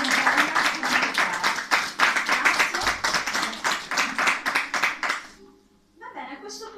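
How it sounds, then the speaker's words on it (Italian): Clapping at a health and beauty convention in Campli, a fairly close, distinct patter of hands that stops abruptly, followed by a brief high sound after a short pause. "al quale dedico un applauso"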